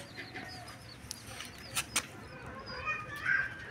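A pet hen clucks and calls softly among other bird chirps, with a couple of brief flapping bursts, moderately close.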